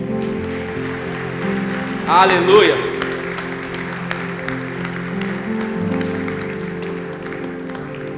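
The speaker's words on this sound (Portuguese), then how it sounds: "Se você crê nisso, pode aplaudir o Senhor" A church congregation claps in praise during a sermon on death and resurrection, a busy patter of hands over a sustained low hum of music, with a voice calling out briefly near the start of the clapping.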